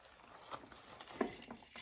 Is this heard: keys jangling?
yes